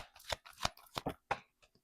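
Tarot cards being shuffled close up, a series of about five crisp riffling bursts with brief pauses between, quiet and alone.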